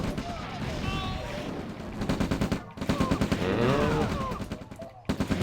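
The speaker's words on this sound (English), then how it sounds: "The hills are alive with the sound of gunfire" Gunfire in the real-time strategy game Red Alert (OpenRA), sustained rapid bursts of shots with brief breaks, loud and dense, with a voice talking over it.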